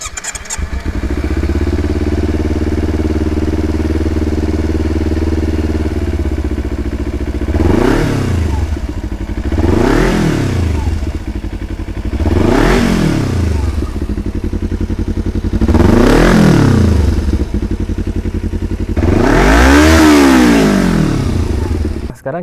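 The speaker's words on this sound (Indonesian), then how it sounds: "Muffler R9 Zeta Series ini ditambah dengan header dari PNP Racing. Tapi ini pakai DB Killer dulu ya," Kawasaki Z250 exhaust fitted with an R9 Zeta Series muffler, PNP Racing header and DB Killer, idling steadily at close range before five loud rising revs with falling returns in the second half.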